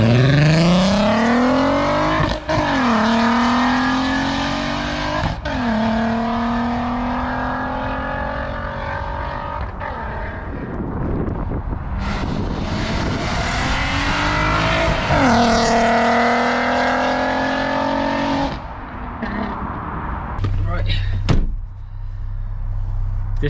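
A straight-piped VW Golf R32 makes a loud flyby, its raw exhaust revving up through the gears with sharp shifts, then roaring past close by before the note fades and settles.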